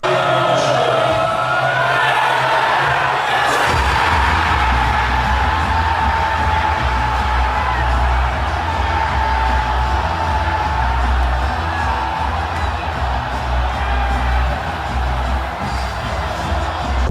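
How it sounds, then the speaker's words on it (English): A large pub crowd in England roars and cheers a World Cup goal in a loud burst, with whoops and yells over a dense, continuous din of voices that holds steady throughout. "This is what every pub in England looks like when they score in the World Cup"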